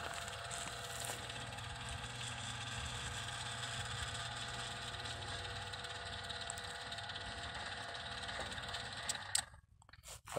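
A Co-Z sliding gate opener motor powered at 110 volts runs with a steady low mechanical hum for several seconds, then cuts off abruptly near the end.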